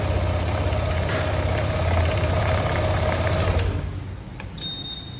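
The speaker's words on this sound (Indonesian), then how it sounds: "Nah motor hidup teman-teman ya." A Honda PCX 160 scooter engine idles steadily right after starting with its ignition switch jumpered, a close, even hum that drops noticeably quieter near the end.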